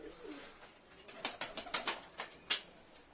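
Dönek tumbler pigeons cooing at close range, a cluster of soft throaty coos and rustling bursts rising in the middle and ending with one louder call, over a faint outdoor background.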